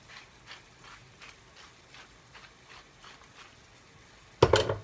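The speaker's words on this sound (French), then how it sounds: "Bien entendu, le poivre du moulin." A short burst of gritty grinding from a pepper mill near the end, following faint scattered clicks and kitchen noise.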